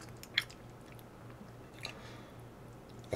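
Beef shabu shabu is chewed close to the mic, with soft, moist mouth sounds and a couple of small crisp clicks over a quiet, faint background.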